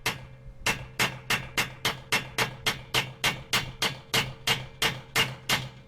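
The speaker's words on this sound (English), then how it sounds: "That's a 3-pound sledge, so actually I'm hitting it fairly hard." A 3-pound sledgehammer strikes hard and steadily during G37 rear brake replacement, sounding loud, close and metallic as about fifteen evenly spaced blows ring out one after another.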